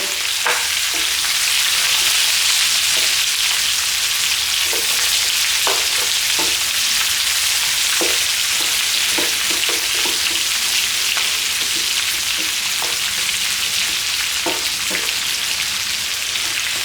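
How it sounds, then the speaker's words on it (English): Onions frying in oil in a curry pot: a loud, steady hiss of sizzling that goes on throughout, with scattered soft taps and clinks from stirring on top, no talking. "Just smash it up and try to toss it into that oil so that it can start to cook and release its onion flavors"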